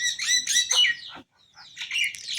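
High, squeaky chirps and calls from pigeons at a small village farm come in two bursts with a brief silence between them. The calls are close and fairly loud.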